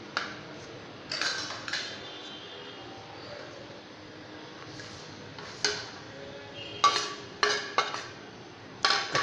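A spoon mixes spices into yogurt in a bowl, making a faint background rustle broken by several sharp clinks and scrapes against the bowl, which bunch together toward the end.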